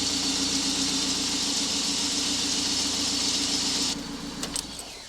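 A BMW E30 318is engine idles just after an oil change, a steady low rumble with even rhythm at close range, dropping in level near the end as the engine is shut off, with a few light clicks.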